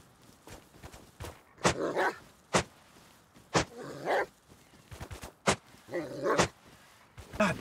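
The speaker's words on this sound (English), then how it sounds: "Stupid dogs." Dogs in the video game Rust bark in sharp, repeated bursts with growls between them, close and loud, in an irregular rhythm over faint background sound.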